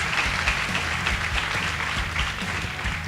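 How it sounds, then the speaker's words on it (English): An audience claps steadily for a winning girls' high school debate team at the end of a round, a dense, continuous wash of applause with no pauses, with faint speech underneath. "Let's clap for them."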